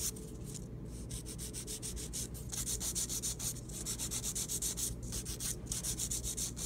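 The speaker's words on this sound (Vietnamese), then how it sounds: "cái giũa vuông thì em lấy thẳng cái đầu móng, em lấy thẳng hai bên hông ra" A square nail file rasps steadily across an acrylic nail overlay, shaping the tip and sides in quick, rhythmic back-and-forth strokes, close and fairly quiet, with no talking.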